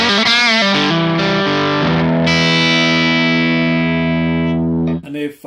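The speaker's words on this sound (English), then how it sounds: "I removed the effects that this profile has from the beginning, so it's all dry now." A Stratocaster electric guitar runs dry through an Orange AD140 amp profile, a loud, slightly driven tone with a fast run of picked notes, then chords ringing out and fading, followed by a short burst of speech.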